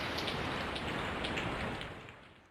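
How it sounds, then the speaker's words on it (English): Synthesized rain effect from the MIDImorphosis 2 iOS app, a steady dense hiss of falling rain with faint droplet ticks. It holds constant and then fades at the end, with no voices. "We got even some rain if you want to create rain."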